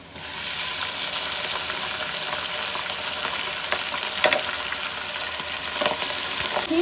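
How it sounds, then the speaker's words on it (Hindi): Minced meat hits fried onions in a pan and crackles into a loud, continuous sizzle, with a few stirring clinks near the end and no voices. "ये प्याज फ्राई हो गई है, अब हम इसमें कीमा डाल देते हैं"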